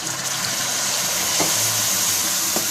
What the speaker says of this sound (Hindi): इसमें एक पानी का छींटा लगाऊंगी